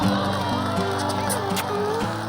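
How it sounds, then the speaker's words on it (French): A crowd cheering and applauding the winning champion of a sports race, with shouts and whoops over a steady roar. Tonal sounds and voices run underneath throughout. "On applaudit notre grand champion."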